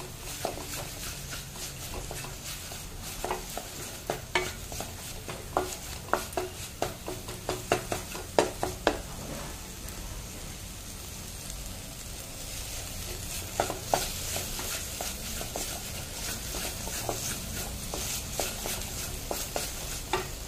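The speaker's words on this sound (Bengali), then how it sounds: "এবার এটা ভালো করে মিশিয়ে নিতে হবে।" Jaggery stirred into a mixture in a pan for potoler dorma, with a soft steady sizzle and repeated scraping clicks of a spoon against the pan, close by and without talk.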